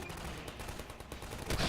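Rapid turret gunfire in a video game, a dense, steady burst of shots with no talking over it, closing with a louder flare at the end.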